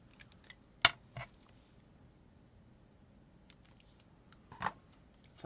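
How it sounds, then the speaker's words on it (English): Metal snips cut craft material to length in a few sharp, quiet clicks: two close snaps early, then another pair after a long pause, each one short and crisp against near silence. "I'm going to get my snips out so that I can cut it that length"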